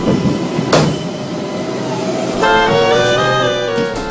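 A train rumbles steadily along at speed, a sharp metallic squeal rising midway and a harmonic whine building near the end, loud and close.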